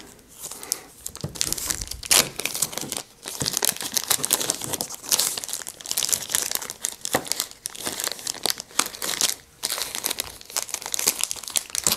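Plastic ziploc bags holding Talisman board game cards crinkle and rustle almost continuously up close, with bursts of handling and brief pauses, no talking.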